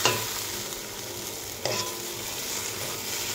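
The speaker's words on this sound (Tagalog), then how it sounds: "Halu-haluin lang natin." Chicken fajitas with red and green capsicum being stirred in a sizzling pan, the continuous frying hiss broken by a sharper utensil scrape at the start and another midway, with no voices.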